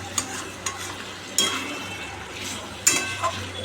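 Meat curry stir-fried in a pan after warm water is added: a close sizzle with stirring scrapes and a few sharp clinks of utensil against the pan, no talk.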